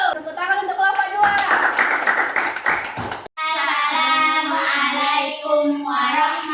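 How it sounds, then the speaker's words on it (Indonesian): Classmates clap for a student group in a classroom presentation, a short burst of close, brisk hand claps set between stretches of voices. "Tepuk tangan untuk kelompok 2."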